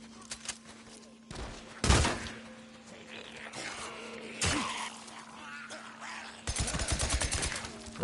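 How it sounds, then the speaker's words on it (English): Bursts of rapid gunfire from the video game Days Gone crackle in short volleys, loud and sharp, separated by quieter stretches with a steady electronic hum underneath. "Do you not hear this gunfire?"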